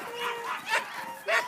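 A dog yips and whimpers in a few short bursts during a fetch-training session, close and fairly loud, with a pause between each.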